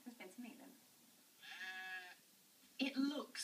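Lincoln Longwool sheep on a farm run with Victorian methods give a short bleat, with soft talk before and a louder voice just after.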